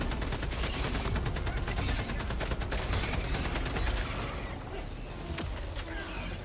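Sustained rapid gunfire in the video game Helldivers 2, a steady stream of evenly spaced shots for about four seconds, followed by scattered game sounds and impacts, with a player talking over the action.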